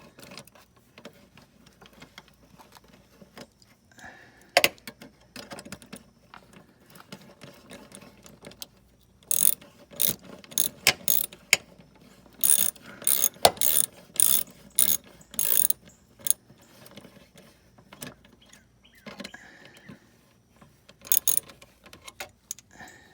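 A ratchet tightening down a fuel filter on a 1996 Ford Thunderbird, sharp rapid clicking bursts in irregular runs with pauses between, close and crisp over a quiet background.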